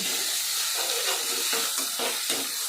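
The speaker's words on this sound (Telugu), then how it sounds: "పచ్చి వాసన పోయే వరకు వేయించాలి" Chicken fries in a pan with a spice paste, giving a continuous bright sizzling hiss close up. A few soft stirring scrapes break through midway.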